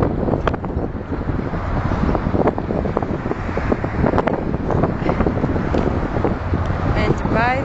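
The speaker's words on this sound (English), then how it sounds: "It's a little windy out." Wind buffets the microphone steadily and loudly throughout a walk in a riverside park, with a constant rumbling roar and faint distant traffic beneath.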